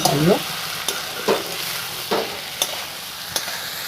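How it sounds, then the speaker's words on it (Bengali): Taro stolons fry with jackfruit in a pan, a constant close sizzle broken by about five regular scrapes of a stirring utensil, with no talking. "আমার কচুর লতা ভাজা হয়ে গেছে"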